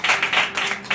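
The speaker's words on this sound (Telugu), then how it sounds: "చప్పట్లు కొడుతుంది." Rhythmic hand clapping during a Telugu Bible study sermon, a quick run of bright claps in steady bursts, close and moderately loud with no talk over it.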